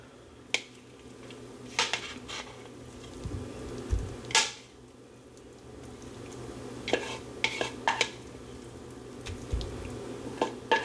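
A spoon stirs and scrapes through hot chicken salad in a casserole dish, giving scattered clinks and soft scraping strokes close by, with a faint background hum and no talking.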